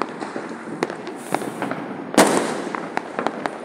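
Diwali fireworks and firecrackers going off: a dense scatter of sharp cracks and pops at varying distances, with one louder nearby burst amid a continuous crackling, hissing backdrop.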